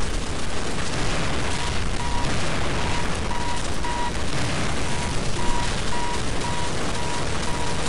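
Counter-Strike Nexon: Zombies gameplay roars with continuous dense gunfire and booming explosions, a thick wall of loud, rapid shots and blasts with faint repeating beeps, no clear talk.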